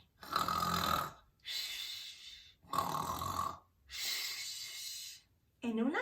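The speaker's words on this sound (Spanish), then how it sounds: "Pero el oso no para de roncar." A sleeping bear in a forest cave snores in four long, loud, rasping breaths of steady rhythm, each separated by a short pause, with a brief squeak at the very end.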